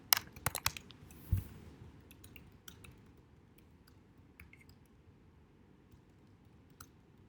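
Someone types on a computer keyboard in a quiet room, with a quick cluster of key clicks and a thump at the start, then sparse, faint taps.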